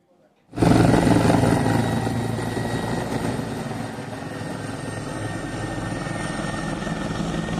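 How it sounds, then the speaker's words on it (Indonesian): Water-bombing helicopters fighting a forest and land fire in Pelalawan, Riau: loud, steady rotor and engine roar that starts abruptly and holds constant, close and dominant throughout. "Pemprov Riau mengerahkan 4 heli waterbombing untuk membantu pemadaman karhutlah."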